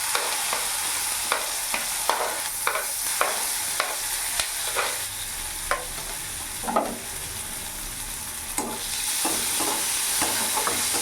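Chopped garlic and onion fry in a pan on a medium flame, a constant sizzle broken by repeated sharp scrapes and knocks of a spatula stirring, heard up close with no talking.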